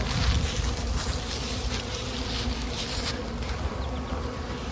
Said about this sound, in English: a lot of bees just figuring out where they live now, doing their orientation flights around the hive